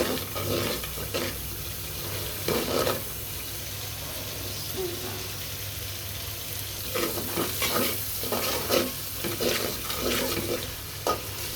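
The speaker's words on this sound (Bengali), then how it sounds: "মশলা কষানো আর একটু হবে" Ground spices, including garam masala, frying in a pan with a continuous sizzle and repeated scraping stirs of a spoon, close up, no voices.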